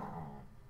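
A dog growls low and steady in a brief, faint rumble.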